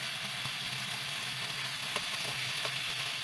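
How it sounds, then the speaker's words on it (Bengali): Meat frying in hot oil in a wok, a dense, close, continuous sizzle with a low bubbling rumble and occasional crackles, no voices. "কড়াইতে পরিমাণ মতো তেল গরম করে এর মধ্যে আমি মাংসগুলো ছেড়ে দিচ্ছি"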